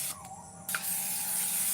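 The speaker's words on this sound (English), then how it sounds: "Just spray the pan though." Cooking spray, such as Pam, hisses in one steady burst onto a cake pan for a red velvet cake. The spray is close and fairly loud and continues through the rest of the clip after a short squeak.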